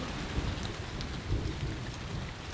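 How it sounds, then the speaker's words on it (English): Heavy rain pours down steadily during an outdoor thunderstorm, a dense continuous hiss of drops with low thunder rumbling underneath, loud and close with no voices. "it's raining heavily out there. There is a thunderstorm out there somewhere. I can hear the thunder."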